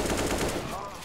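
Rapid automatic fire from an AK rifle in the video game CS:GO, a fast dense burst of shots lasting about a second, loud and up close.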